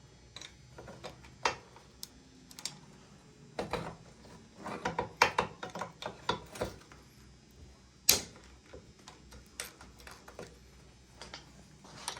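Ratchet and tools working a banjo bolt on an XR400 motorcycle's brake line, scattered sharp clicks and metallic clanks in irregular bursts, close and moderately loud without speech.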